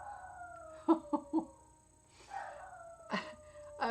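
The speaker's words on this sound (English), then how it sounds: "Oh, now my dog is howling." A dog howls in drawn-out, wavering tones, with short yelps in between, close by, over a faint steady background hum.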